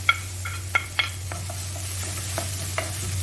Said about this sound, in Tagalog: Ayan, mainit ang ating kawali na may olive oil. Igisa natin ang bawang. Isabay na natin ang luya.